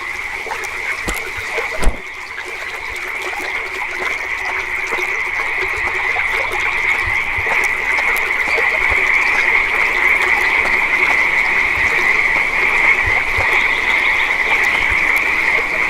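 A dense chorus of frogs croaks steadily around a pond in the Eastshade game, a continuous layered drone from many animals with no speech.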